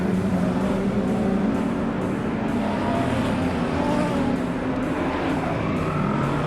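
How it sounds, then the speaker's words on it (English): Sprint cars racing around the dirt oval at Beachlands during a Southern Sprint Car Series round, a loud, steady engine roar that fills the clip with no letup and no talk. "The checkered flag will drop for that 475 car of Braden Adams, the man that's doing the job."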